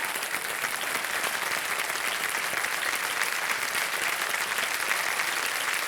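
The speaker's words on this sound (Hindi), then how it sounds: "तालियां बज जाए इनके लिए।" Sustained applause from a television studio audience on a Hindi quiz show, steady and dense for the full stretch with no voices over it.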